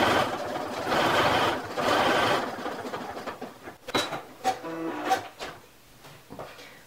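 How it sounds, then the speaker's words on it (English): A sewing machine stitches a seam on a fleece mitten in a steady run for a few seconds, close and fairly loud, then stops, followed by several handling clicks and knocks. "I'm going to stitch down this seam just until I hit that little spot where the first seam that I sewed starts."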